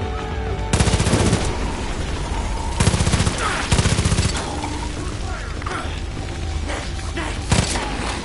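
Heavy gunfire in the Far Cry 5 zombie mode, repeated loud bursts and booms over a continuous dense game soundscape with music, fairly steady throughout.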